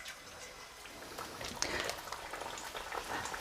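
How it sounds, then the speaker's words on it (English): Spinach and potato pakora fry in hot oil with a soft, continuous crackle and fizz, quiet and close, with scattered sharper pops over the steady sizzle. "we're going to fry these for about 6 minutes until they're really nice and crisp and golden brown"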